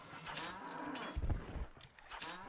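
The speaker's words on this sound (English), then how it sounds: "killing the poor cows." Cattle mooing in the strategy game Stronghold, several low lowing calls close together over a busy game soundscape, the loudest moo near the middle.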